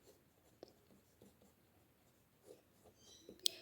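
Chalk or marker taps and strokes on a board as an equation is written, with faint scattered scratches and a sharper tap near the end, quiet and without talk.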